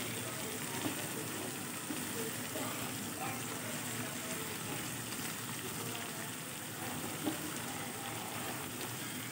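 Spice paste with salt fries in oil while being cooked down, a steady close hiss and sizzle with faint scattered crackles and an occasional stirring clink.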